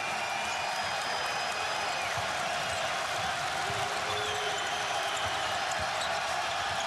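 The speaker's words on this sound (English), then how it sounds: "this sold-out crowd trying to make a little noise" Sold-out arena crowd at a Rutgers versus Purdue college basketball game, a steady broad roar of many voices with ball bounces and squeaks underneath, no commentary over it.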